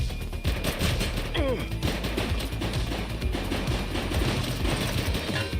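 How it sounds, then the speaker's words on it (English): Rapid bursts of gunfire crack through a tense shooting scene, dense overlapping shots in quick succession, with shouting voices underneath and a sustained loud, chaotic texture throughout. "She's shooting!"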